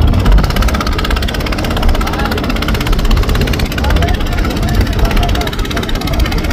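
A passenger trawler's engine drones continuously on a windy river while ferrying people from the MV Green Line-3, a loud, close, rough rumble with wind noise throughout.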